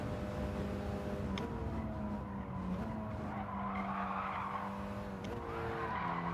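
A Mitsubishi Evolution IX race car in Gran Turismo 7 skids off the track in online lobby racing, its tyres squealing continuously over steady engine tones that shift pitch as other cars race nearby.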